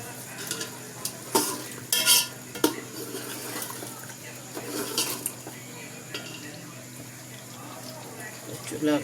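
Ghee is stirred into a pot of cooking mutton, giving soft scraping and clinking of a spoon against the pot over a low sizzle, with brief louder stirring bursts and a steady background hum.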